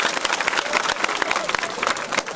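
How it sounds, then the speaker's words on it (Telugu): A gathered audience breaks into dense, sustained applause, many hands clapping loudly and continuously with faint crowd voices mixed in. "ఒకసారి గట్టిగా చప్పట్లు కొట్టండి అయ్యా"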